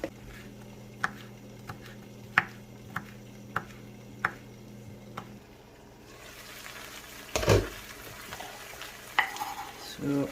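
Chicken breast cooks in a pan with a low steady sizzle, broken by regular light taps and clinks of a utensil, followed by louder scraping and clattering near the end.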